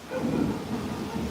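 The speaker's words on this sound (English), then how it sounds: "you can hear the thunder too" Thunder rumbling low and continuous through a thunderstorm with strong downburst winds in Queens Village, New York City, a steady deep roar lasting the whole moment without a distinct crack.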